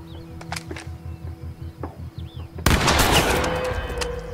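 Gunfire in the video game The Quarry: a quiet stretch of distant shots and chirpy ambience, then a sudden loud burst of rapid shooting that keeps rattling on.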